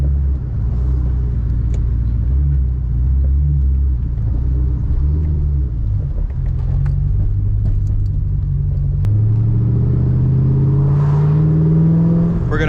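A Ford Mustang rumbles loudly with a deep, steady engine drone that swells and wavers, then climbs in pitch toward the end as it accelerates in a test launch.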